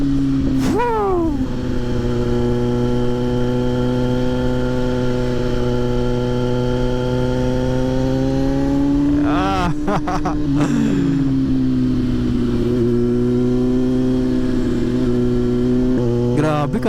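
A Kawasaki Z900 SE motorcycle engine holds a loud, steady idle throughout, with two quick blips of the throttle near the start and the middle. Each rev sweeps up and settles back into the deep, even drone.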